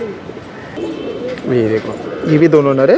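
Male pigeons of the Lalsare and Lall Chapdar Ambalsare breeds coo near at hand in a loft, with several low, rounded calls rising toward the end as someone talks over them.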